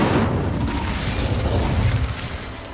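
A roaring, crackling fire blast from the Incendio spell in Hogwarts Legacy sustains loudly for a couple of seconds with deep rumbling underneath before tapering slightly.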